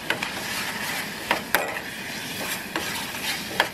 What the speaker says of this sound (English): We're just gonna stir fry that a little bit as well.